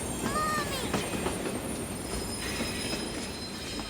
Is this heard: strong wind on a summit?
no